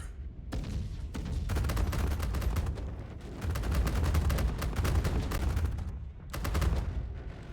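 Ship guns in a space combat video game fire in dense, rapid bursts at shields under fire: a loud, continuous rattle of shots with brief pauses between volleys, with no voices over it.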